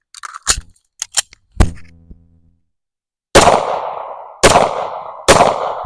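Browning FMJ brass-case target ammunition firing: a few small clicks and clanks come first, then three loud, close gunshots roughly a second apart, each with a ringing, echoing decay.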